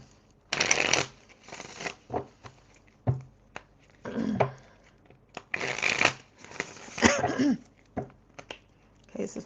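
Tarot cards being shuffled and handled in repeated bursts of riffling and slapping close to the mic, with bits of talk and laughter between.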